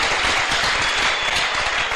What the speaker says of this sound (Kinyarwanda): Dukomere Imana yacu amashyi.